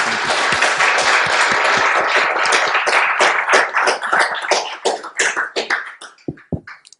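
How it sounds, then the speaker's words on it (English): A room full of people applauds loudly, the clapping thinning out and tapering to a few scattered claps at the end. "big round of applause for being"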